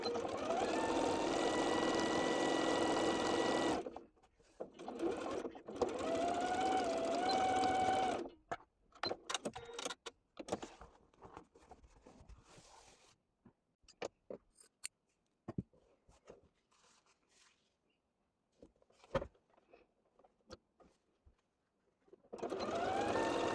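Sewing machine stitching fabric for a Christmas shabby-chic country table set, running in a long steady burst at the start, a second shorter run, then mostly quiet with scattered clicks and handling noises.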